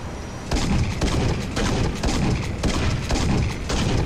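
Heavy weapon fire rings out in a Halo: Reach co-op fight, with repeated loud booming shots roughly every half second over a steady background rumble.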